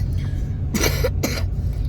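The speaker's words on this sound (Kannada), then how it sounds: "ದನ ಕೆಮ್ಮಂಗೆ ಕೆಮ್ಮು" Two sharp coughs close by, a short pause between them, over a low steady background hum.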